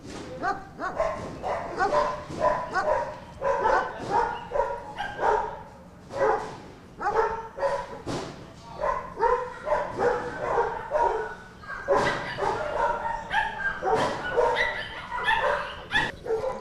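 A search-and-rescue cadaver dog barks repeatedly in close, loud bursts with brief pauses, sometimes whining between barks, at a dog search-and-rescue training workshop in Turkey.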